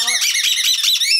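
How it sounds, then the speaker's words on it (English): A squeaky rubber pet toy is squeezed rapidly, producing a burst of sharp, high-pitched, wavering squeaks, loud and close, lasting about a second with no other sound. "So loud, and Milo loves squeaky rubber toys"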